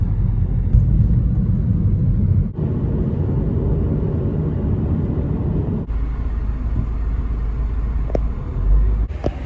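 Steady road traffic and engine rumble heard from inside a moving car passing near Old Trafford in Manchester, a continuous low droning hum with a few faint passing swells and no talking.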